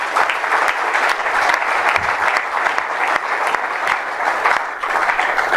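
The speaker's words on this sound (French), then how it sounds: "Est-ce qu'on peut acclamer d'abord pour ça?" Conference audience on constitutional change breaks into sustained applause, a dense steady wash of clapping from many hands with no voices over it.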